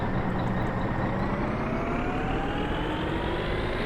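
Tractor engine running steadily with hand throttle and pump engaged in the game My Summer Car, a dense continuous rumbling drone with a slowly rising whine, close and loud, no talk.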